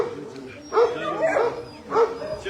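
A large pit bull at a dog shelter gives three short barks, well spaced and fairly close, with faint whimpering tones between them.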